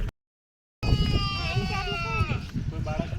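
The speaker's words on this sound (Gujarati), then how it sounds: "બકરીનું બચ્ચું કૂણું કૂણું ઘાસ ખાઈ રહ્યું છે અને આ બચ્ચું આરામ કરી રહ્યું છે" A baby goat in a rural village in Kutch, Gujarat, lets out one long, wavering bleat, close and clear, after a short silence; a person talks nearby around it.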